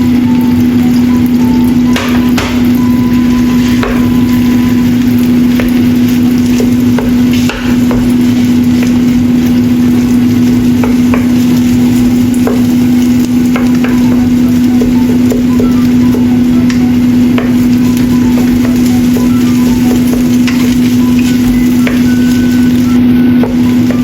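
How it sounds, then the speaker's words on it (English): Egg fried rice frying in a pan while being pressed and stirred, with soy sauce added; a steady loud sizzle and hiss runs throughout, broken by scattered scraping and knocking of the utensil against the pan, with no talking. "Add rice while the eggs are not yet completely solidified. Press the rice and stir evenly."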